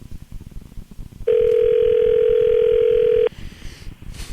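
A steady telephone dial tone sounds for about two seconds at close range, cutting in sharply and stopping abruptly, with faint background chatter from a radio studio before and after.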